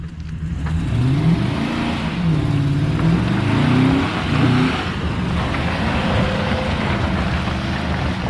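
Off-road vehicle climbing in low gear through mud flats, a loud close engine that revs and strains with rising and falling pitch, holding a heavy drone throughout, no talking.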